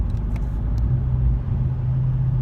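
Idling engine of a 2017 Dodge Challenger R/T Plus, a close, steady low rumble with a deep droning tone that holds even throughout.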